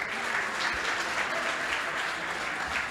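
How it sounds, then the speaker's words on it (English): Audience at a charity gala giving a round of applause, a full, even wash of clapping from a large crowd, sustained and moderately loud without a break. "Another round of applause for Scott"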